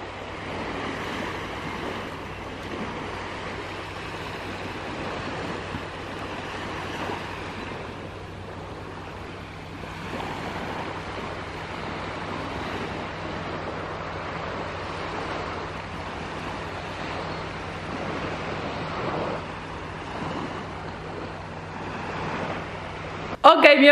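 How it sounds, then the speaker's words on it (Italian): Ocean waves wash steadily at a Maldives resort, a continuous soft roar of surf with light wind noise. "vi faccio sentire un po' ASMR il rumore delle onde"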